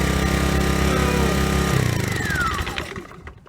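Sportsman Generator 1000 with a fuel leak, its small engine droning loud and steady up close, then shut off and winding down to a rattling stop.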